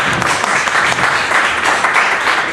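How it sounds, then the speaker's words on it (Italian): Reporters and guests at a Milan press conference for Umberto Tozzi break into loud, sustained applause, a thick continuous patter of many hands close by with no speech over it. "qui ci scappa l'applauso"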